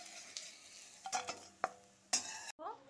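Bitter gourd slices fry in a pan with a faint sizzle under a few sharp clinks and scrapes of a spatula stirring, followed by a brief burst of spattering at the end.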